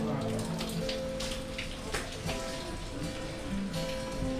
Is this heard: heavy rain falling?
yes